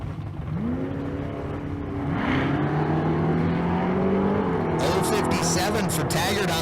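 Drag race cars, including a butternut yellow 1968 Camaro, tearing down the strip at a Street Car Super Nationals event in Las Vegas, engines howling in long rising pitch sweeps, with an announcer talking over the roar.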